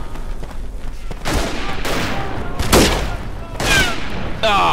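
Gunfire in the World War I shooter Verdun: several loud, sharp rifle and machine-gun bursts with booming reports, coming in clusters against a constant background of battle noise.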